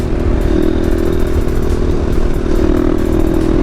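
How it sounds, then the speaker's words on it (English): A KTM dual sport motorcycle engine held at a steady, loud drone during a sixth-gear wheelie, close up with wind and rattling clatter mixed in. "Little 6-gear wheelie right here."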